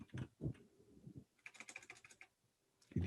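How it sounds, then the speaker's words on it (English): Rapid clicking and typing on a computer keyboard comes in two bursts, with soft thumps between them. The keystrokes are close and fairly quiet, with no talk over them. "You can hear me clicking away here."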